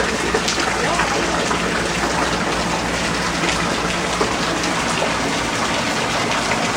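Heavy rain pours down in a loud, dense, unbroken roar of gushing water close by.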